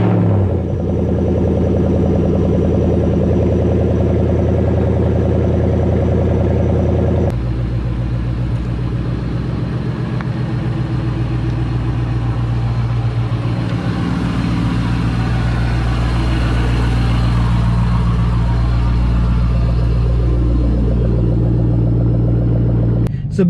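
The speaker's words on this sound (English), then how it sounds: "cold start on a 2013 Shelby GT500 in 3," A 2013 Shelby GT500 cold-starts with a crank, then settles into a loud, steady idle rumble that holds close and continuous, with a brief rev change partway through.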